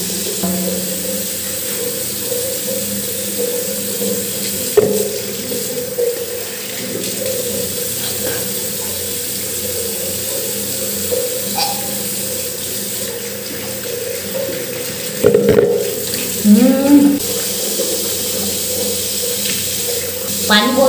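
Hot water runs from a tap into a sink in a steady, continuous hiss, broken by a few brief clatters and splashes near the middle and end.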